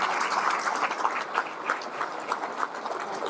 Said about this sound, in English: So give Greg a round of applause, even though he's not here.